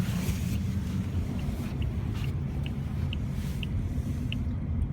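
Interior of a Ford Escape accelerating, a steady low engine and road rumble with wind noise throughout, fairly constant and moderately loud, with no talking.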